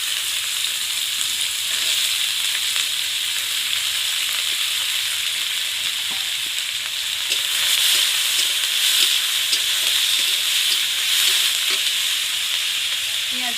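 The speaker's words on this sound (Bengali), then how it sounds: "এখন আমি দেব পেঁয়াজ" Onions fry in hot oil in a pan for a village-style chicken curry, giving a loud, continuous crackling sizzle with bright hissing and occasional stirring scrapes, steady from start to finish with no voices.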